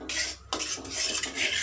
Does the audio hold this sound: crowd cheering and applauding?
no